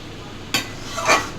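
A spoon stirs mashed banana flower with green chilli paste in a pan, giving two short scraping strokes against the metal amid a quiet background.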